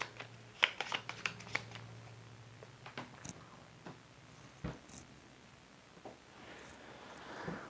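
Someone shuffles a deck of cards for This War of Mine: The Board Game, producing a quiet, close riffling flutter in a few short bursts, followed by softer handling clicks.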